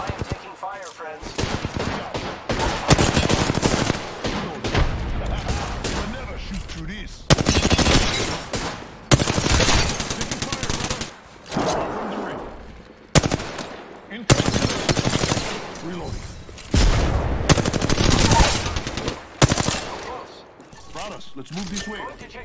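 Gunfire in a video game battle, heavy automatic bursts repeating loud and close over roughly twenty seconds with short breaks, mixed with a player's voice talking.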